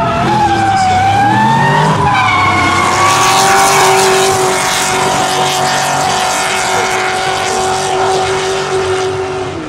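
A drift car at a show event in Alsace, France, held at full throttle with its engine screaming in a rising, sustained howl while the tyres skid and squeal, loud and close throughout with no talk.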